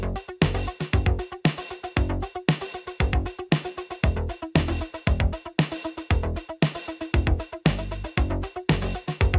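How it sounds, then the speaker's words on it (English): A palm-muted electric guitar in a synthwave track chugs out short, tight, punchy notes in a steady driving rhythm, loud and continuous for about nine seconds. "The next element is a palm muted guitar that sounds like"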